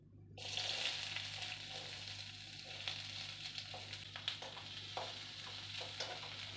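Onion dropped into hot oil in a kadhai, a sudden burst of sizzling that settles into continuous crackling with occasional stirring clicks, close but fairly quiet under a low steady hum.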